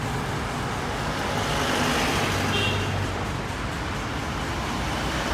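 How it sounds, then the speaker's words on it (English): Russian buses in an official delegation's motorcade roll past on a Mumbai road, a steady broadband rumble of heavy engines and tyres with traffic noise throughout, no talking. "Unbelievable Russian buses."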